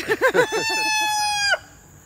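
A rooster crows in a hen house, a single loud close cock-a-doodle-doo with choppy opening notes and a long sustained final note ending abruptly.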